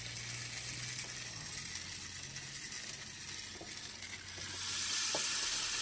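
Cinnamon rolls topped with ham sizzle steadily inside a hot waffle maker, a soft, continuous crackle that swells louder near the end.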